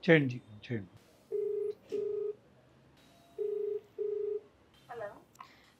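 Four steady telephone dialing tones sound in two pairs, each beep brief and evenly spaced, with a short voice before them and more speech-like sounds trailing after.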